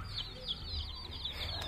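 A young chicken gives several short, high peeping clucks in quick succession, faint and a little distant, over a low steady background hum.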